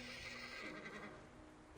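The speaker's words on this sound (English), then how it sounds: "Sounds like a horse to me." A horse in the video game Reverse: 1999 lets out a brief, faint neigh that quickly fades, heard alone against soft background noise.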